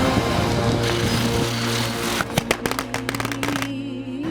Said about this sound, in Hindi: पटाखे फूट रहे थे।